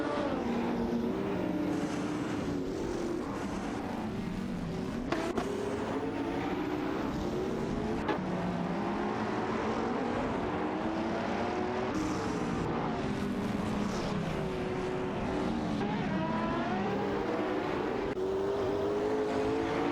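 Ferrari 599 GTO and McLaren MP4-12C engines roar through a racing video game, a steady dense drone with rising and falling engine pitch lasting throughout, loud and continuous with no talking.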